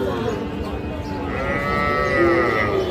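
A young heifer calf lets out a drawn-out moo against a busy background of murmuring voices at a livestock market.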